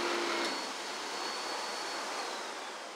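A Miele Earth vacuum cleaner runs with its power brush motor engaged, giving a steady, even whooshing hum with a faint high whine, heard alone and at constant level throughout.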